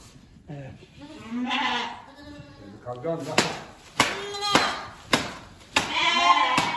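Newborn lambs, a few days to a few weeks old, bleat on a village farm. Several wavering calls come at uneven intervals, near and far, mixed with sharp clicks and knocks and some background voices.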